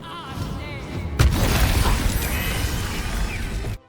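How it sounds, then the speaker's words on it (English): A video game explosion set off with an orb spell in a solo Honor-mode fight, a sudden loud boom followed by several seconds of dense rumbling, crackling debris before cutting off. "Based on the low health they have, it's time for the explosion."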